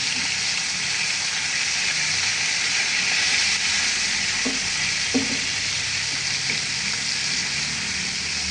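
Chicken pieces frying in hot oil in a home kitchen, giving a steady, dense sizzle throughout, with a few soft knocks and clinks from the pan or utensils partway through.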